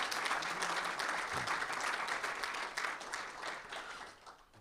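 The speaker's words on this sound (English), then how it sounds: "Let us have a big round of applause, for them." A crowd applauding at an expo launch event in Mumbai: dense, sustained clapping that holds steady for several seconds, then starts to fade out.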